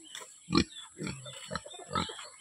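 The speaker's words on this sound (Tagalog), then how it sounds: "isa pang baboy dito" A pig on a farm grunts in several short, low snorts spaced about half a second apart, close and fairly quiet over a faint steady background hiss.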